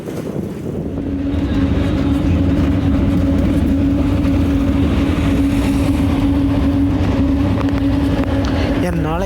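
A TNSTC bus on a night run from Tirupur to Valparai, heard from the back seat: loud, steady engine and road rumble with a persistent hum and rattling from the shaking cabin.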